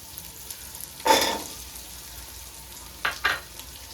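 Carrots tossed into a hot frying pan with ginger-garlic paste for vegetable biryani: a loud close sizzle burst, then a second shorter hiss a couple of seconds later, otherwise quiet.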